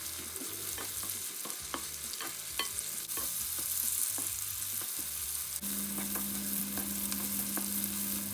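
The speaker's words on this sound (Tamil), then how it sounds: "நான் ஒரு எண்ணெய் சட்டி வச்சு நல்லெண்ணெய் விட்டு அதுக்குள்ளே வந்து 3 வெங்காயம் ஒரு சின்ன எண்ணெய் வெட்டி வதக்கி எடுக்க போகிறோம்" Three sliced onions sauté in sesame oil in a pan, giving a steady sizzling crackle with scattered pops and the scrape of stirring throughout, with no talking.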